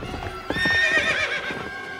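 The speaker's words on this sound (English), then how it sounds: "This fancy carriage is probably worth a lot." Cartoon horse hooves clip-clop briskly in a quick rhythm, close and clear, as a horse pulls a fancy carriage. A short neigh rises over the hoofbeats partway through.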